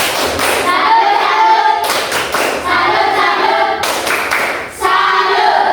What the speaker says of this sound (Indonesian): Oke, kita tepukkan, makasih mereka